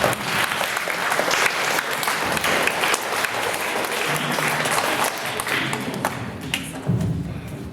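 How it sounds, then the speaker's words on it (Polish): Audience applause breaks out to welcome a concert's sound engineer, a dense, steady clapping from a crowd that holds at a loud level throughout with a few heavier thuds mixed in. "Także przywitamy go również brawami."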